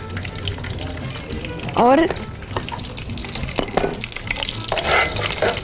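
Ground spices fry for a fish korma, giving a busy close-up sizzle with crackles, stirring scrapes and clinks, while someone talks over the cooking.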